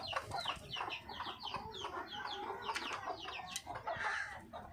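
A flock of backyard hens clucks and squawks continuously up close, overlapping calls with no talking.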